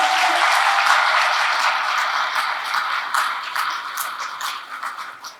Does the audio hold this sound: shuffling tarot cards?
no